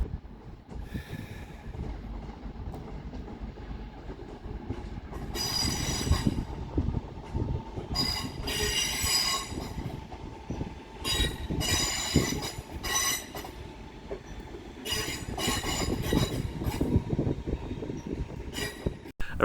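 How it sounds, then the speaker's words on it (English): A Northern class 323 electric train pulls out of Manchester Piccadilly station with a continuous rolling rumble, broken by repeated bursts of high, piercing wheel squeal as it moves over the track. No voices are heard. "departing over on the far side is 323227, working the 1733 Northern service through to Hatfield"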